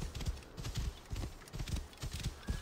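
Hooves of a horse in Assassin's Creed Origins clatter in a steady galloping rhythm as it runs off, fairly faint and alone, with no talk.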